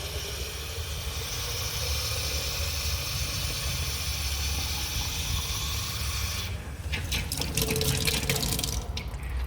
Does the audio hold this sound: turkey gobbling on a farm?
no